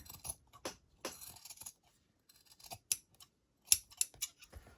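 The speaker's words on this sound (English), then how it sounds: "we're going to take our scissors. We're going to cut this, trim all of this back." Scissors trim a paper book cover during junk journal crafting, giving a series of crisp, close snips in an irregular rhythm with short quiet gaps between cuts.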